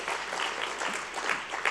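Church congregation at an Easter service cheering and clapping, a dense steady wash of many hands applauding with scattered whoops, fairly close and continuous throughout.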